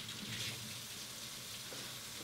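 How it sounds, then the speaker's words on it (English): Hot water poured or running from a tap for homemade bread dough, a steady close rushing splash over about two seconds with no talking. "You're going to need some hot water."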